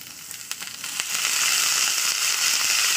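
Chopped onion and potato pieces hitting hot oil in a kadai, a sharp burst of close, loud sizzling that quickly settles into a steady, dense frying hiss.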